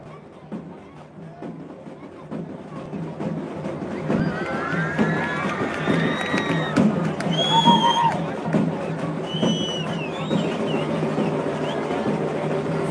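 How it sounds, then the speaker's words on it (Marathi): A crowd at a Dahi Handi festival in Indapur cheers and shouts amid a lively outdoor hubbub, with whistles and excited voices rising and falling over steady background noise and a rhythmic beat. "जल्लोष आणि उत्साह इंदापूरकरांचा"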